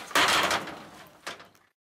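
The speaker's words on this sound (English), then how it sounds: "Just shut the door." An enclosure door on a python breeding box is shut, giving a loud close-up burst of rattling impact that fades and then a second, shorter knock as it settles, with no talking.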